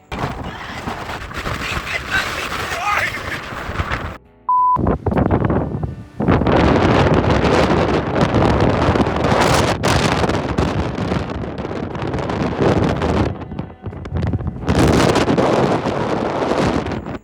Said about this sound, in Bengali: টাইটানিক ভিউতে তো দাঁড়ানোই যাচ্ছে না বাতাসে